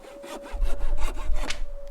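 Sawing on a maple sapling in the survival game The Long Dark, with a quick rhythmic series of rasping wood strokes, close and fairly loud, heard alone.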